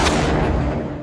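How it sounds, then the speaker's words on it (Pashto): Heavy cannon fire from a wartime scene, a loud booming blast that rolls into a dense, rumbling roar and slowly fades over about a second. "بیا د ډي سي توپ غږونه شو"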